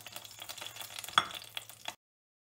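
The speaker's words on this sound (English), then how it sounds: "So I'll be adding the mustard seeds, zeera and the curry leaves into the oil once it is heated." Mustard seeds, cumin and curry leaves sizzle and crackle in hot oil while making a Hyderabadi-style potato fry, a steady close frying hiss with a few sharp pops, heard alone for about two seconds.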